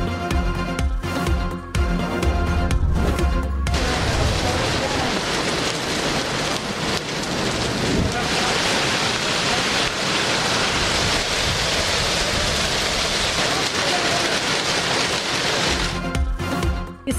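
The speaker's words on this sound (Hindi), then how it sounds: "इस्लामाबाद में मूसलाधार बारिश और झालाबारी।" Heavy rain and hail pour down across Islamabad, a dense, steady roar of water that holds loud and constant for most of the stretch, with brief gaps of other sound at the start and end.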